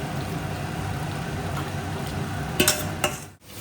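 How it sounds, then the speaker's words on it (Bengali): Hilsa pieces full of roe fry in a home pan, giving a steady sizzle throughout, with a few brief clinks of a utensil against the pan near the end. "এই ইলিশ মাছ ভাজা চলছে"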